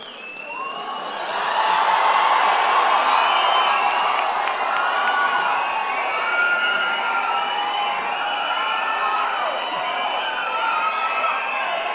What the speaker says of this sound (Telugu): ఎంత హాయిగా ఉంటాయి ఈ ఈలలో చప్పట్లు వింటుంటే